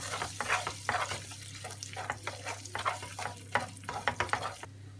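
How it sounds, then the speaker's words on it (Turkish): Tomato paste and onion sautéing in a pan for patlıcan oturtma, brisk rhythmic scrapes of stirring over a soft sizzle, with a low steady hum underneath, close and moderately quiet. "Hafiften şu salçayı birazcık kavuruyoruz."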